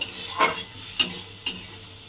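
Spiny gourd cooking in a pan over low gas, with a few soft clinks and scrapes of a utensil against the pan over a faint steady background.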